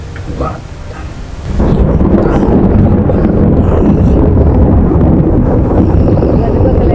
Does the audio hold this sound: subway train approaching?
no